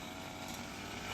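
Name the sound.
grass cutter running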